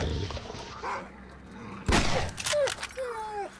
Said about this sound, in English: There's a dog up there.